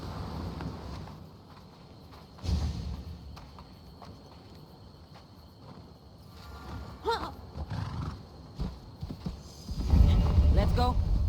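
Horse from the video game Assassin's Creed Odyssey clip-clopping along at a ridden walk, rhythmic hoof falls with a whinny and snorts, mixed with ambient game sounds that swell louder near the end.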